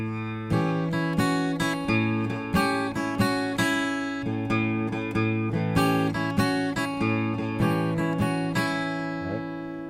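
Acoustic blues guitar alternating a steady bass note with a three-note melody on an open string, fingerpicked up close in a rolling, even rhythm of bright plucks, with no voices.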